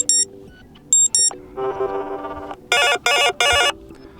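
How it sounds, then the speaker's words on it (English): An alarm ringtone plays on a Fairphone 3 phone: bright, loud electronic chimes in short repeating bursts, a sustained tonal passage in the middle, then three quick identical rings, with no talk. "select new alarm sound from the list"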